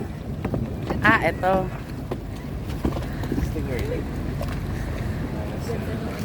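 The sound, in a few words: speedboat motor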